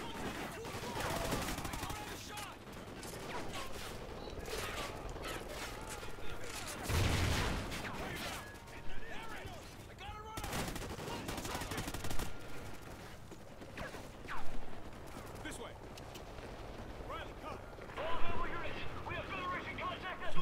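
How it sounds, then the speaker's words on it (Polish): Bursts of gunfire crackle intermittently in Call of Duty: Ghosts on PS4, some rapid and automatic, amid in-game noise and people talking. "Kev, podchodzisz mi pod strzały."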